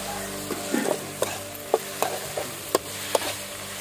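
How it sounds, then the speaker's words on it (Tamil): Tomatoes and onions sautéing in a pan for a Tamil snail stir-fry, a steady sizzle punctuated by sharp spatula scrapes and taps roughly every half second, close and clear, over background music. "தக்காளியும் நல்லா வதங்கணும்."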